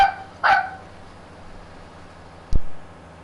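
A pet dog barks indoors, two sharp barks about two seconds apart, close and loud against a quiet room.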